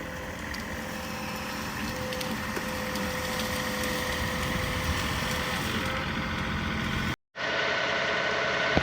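A tractor and a truck run their engines while pulling out a blown-down tree, a steady close mechanical drone with a strained rattling edge, briefly cut out near the end before resuming.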